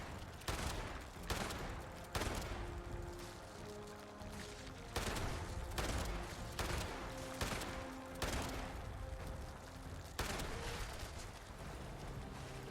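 Fallout 76 gunfire aimed at the Mirelurk Queen, a steady string of repeated shots and impacts roughly every second over a dense game background, faint overall.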